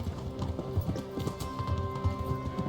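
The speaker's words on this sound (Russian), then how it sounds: "А у меня конь-то побыстрее," A horse galloping in the video game Kingdom Come: Deliverance, a fast rhythmic clip-clop of hooves over a low rumble of movement, steady and close, with no voices.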